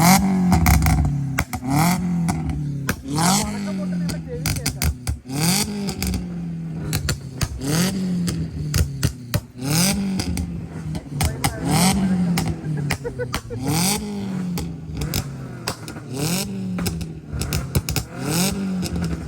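A modified Swift Dzire's engine revs up and down again and again in quick, rhythmic bursts, with sharp exhaust pops and crackles between the revs. It sounds loud and close, and people talk over it.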